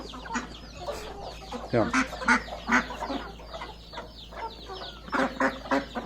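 Backyard chickens cluck and squawk in busy overlapping bursts close to the microphone, with a sharper cry partway through, while a voice briefly speaks among them.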